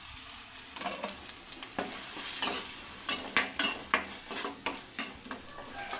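Onion paste sizzles steadily in a pan for a home-cooked chicken fry, with a utensil scraping and stirring through it; the stirring strokes grow louder and fall into a regular rhythm in the second half, close up and with no talking.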